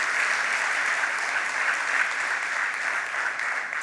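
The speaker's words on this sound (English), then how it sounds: "Please give a round of applause for that." An audience at a business meeting applauds entrepreneurs, sustained even clapping from a sizeable crowd that stays steady and fairly close throughout, with no talk over it.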